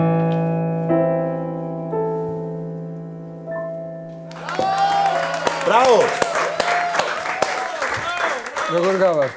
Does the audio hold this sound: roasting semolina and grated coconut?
no